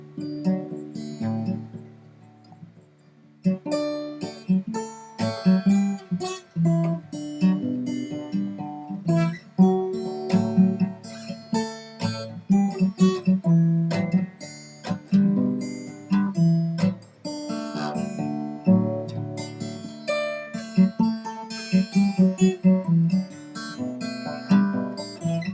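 Guitar in open D tuning playing a picked melody over ringing drone strings. The plucked notes are clear and rhythmic and ring out together, with a short pause early on before the phrase continues.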